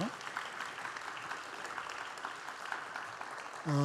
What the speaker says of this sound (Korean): 우리 한번 다시 감사의 박수 한번 드리죠